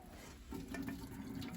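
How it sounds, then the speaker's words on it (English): Water poured off a pot of freshly boiled asparagus in a home kitchen, a steady close splashing and trickling that swells after a quiet start and runs on without pause. "Now we're going to drain off the water."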